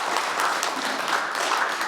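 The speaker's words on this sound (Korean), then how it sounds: "박수 한번 부탁드립니다" Audience applause at a 2022 veterinarians' symposium panel discussion: dense, steady clapping from a crowd filling the whole short stretch at even loudness.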